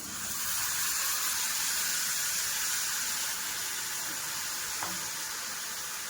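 Spiny gourd (kartule) pieces dropped into a pan of onions frying with chilli powder and salt, giving a steady, fairly loud sizzle throughout with a faint clunk near the end, and no voices.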